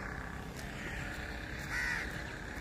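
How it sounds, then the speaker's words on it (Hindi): Several crows caw from nearby in a rural outdoor setting, repeated harsh calls over steady background noise, with one louder, closer caw near the end. "एक कावां थले बैठा"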